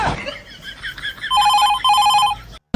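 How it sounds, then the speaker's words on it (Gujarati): A telephone rings in a steady electronic ringtone pattern, two bursts of repeated tones, loud and close, then cut off abruptly; a voice is briefly heard at the start. "છોટુનો ફોન"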